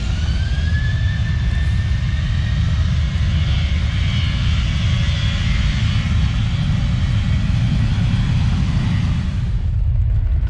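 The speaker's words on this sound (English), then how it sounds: "All the planes seem to be taking off on this side of the airport" A jet airliner taking off at an airport, a loud, steady engine roar with a rising whine that fills the whole stretch before easing off near the end, with no talking.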